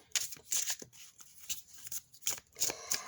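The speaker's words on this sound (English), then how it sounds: "So it's pretty easy to shuffle." An oracle card deck is shuffled by hand in quick, papery riffles and slides, several bursts close to the microphone with short pauses between them.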